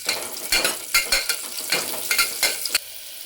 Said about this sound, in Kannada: ಈರುಳ್ಳಿ, ಸಾಸಿವೆ, ಕರ್ಬೇವಿನ ಸೊಪ್ಪು ಹಾಕ್ಕೊತಾ ಇದ್ದೀನಿ